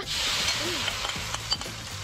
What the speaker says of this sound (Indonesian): Sangrai di wajan panas dengan minyak secukupnya.